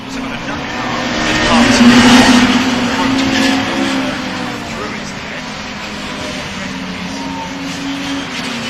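Race cars in a full, mixed grid of Minis at Brands Hatch's Mini Festival heading down towards Paddock Hill Bend, engines roaring steadily at close range and swelling briefly, with a commentator talking over the noise.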